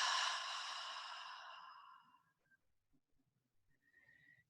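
A long, deep breath out during a guided breathing meditation, a breathy exhale that fades over about two seconds into near silence with a faint whistle-like tone after.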